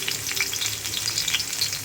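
Chili sizzles in a dry pan before live prawns go in, a brief, bright and steady crackle heard close and alone.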